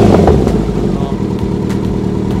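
Kawasaki Z900 motorcycle engine running steadily at a low, even idle after starting, loud and close with a continuous rumble throughout.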